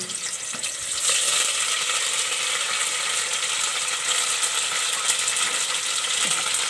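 Garlic frying in a pan for a dal mash, a steady close sizzle and crackle with faint scraping, continuous and fairly loud throughout with no voices.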